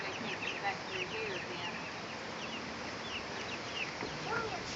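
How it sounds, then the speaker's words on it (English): Chickens in a coop cluck and chatter continuously at a moderate distance, forming a busy, even layer of calls with no clear pauses. "Jordan, go catch a chicken."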